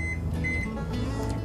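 A microwave oven sits close by on high while peanut brittle is being made, giving a steady hum with a few short, high keypad beeps.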